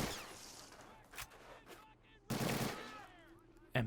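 Gunfire in the Men of War Assault Squad game during a WWII commando coastal raid in Norway, with scattered shots followed by a loud burst of fire, then quieter crackle and another sharp burst at the end.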